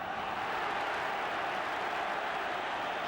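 Crowd at a 1973 Home Championship football match between England and Scotland at Wembley, a steady, broad roar of supporters rising together, continuous and fairly distant, with no distinct voices.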